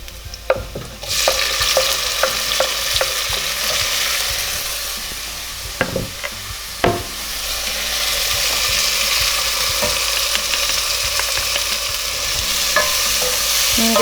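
Tomatoes and powdered spices fry in a pan for a rice and potato pilaf, a steady loud sizzle with a spoon knocking and scraping against the pan now and then as the mixture is stirred.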